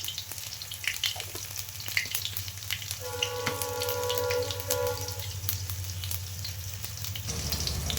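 Panch phoron, the Bengali five-spice mix, sizzles in hot oil for a homemade vegetarian masala: a steady crackling fry with scattered pops and a faint whistling tone partway through.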